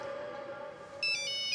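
A phone ringtone sounds for an incoming call, a steady electronic tone giving way to a brighter, louder melodic chime at the end, with no talk.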